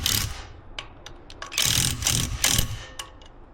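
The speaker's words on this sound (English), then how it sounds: "And now I'm going to go around and tighten up these center ones." Bolts being tightened on a Harley-Davidson Screaming Eagle Wedge air cleaner, a series of short clicking ratchet strokes and metallic scrapes at close range, some in quick bursts, with no talking.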